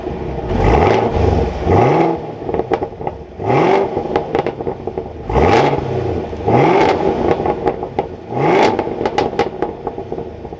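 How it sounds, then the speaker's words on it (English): A 2023 Chevrolet Camaro ZL1 V8 starting up and revving, several loud, deep exhaust blips that rise and fall in repeated bursts, close and aggressive, with rumbling idle between the revs. "So let's fire up this ZL1."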